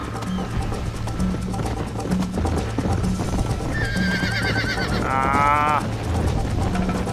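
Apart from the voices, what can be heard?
horse neighing in video game Red Dead Redemption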